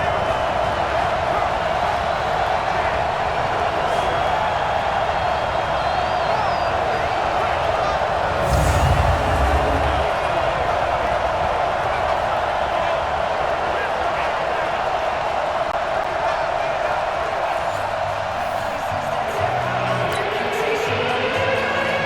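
Stadium crowd noise in Madden NFL 20, a Patriots versus Seahawks game: a steady, dense roar of spectators lasting throughout, with a brief swell midway and play-by-play commentary talking over it.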